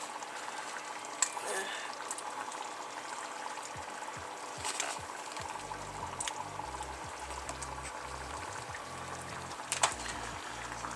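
Chili simmers in a pot, giving a steady low bubbling hiss with scattered soft pops and clinks throughout, fairly quiet and close.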